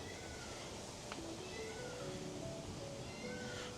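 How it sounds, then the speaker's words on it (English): A cat near a Norman village reconstruction at Mountfitchet Castle gives a few faint, short meows over a low outdoor background hum. "That sounds like a cat."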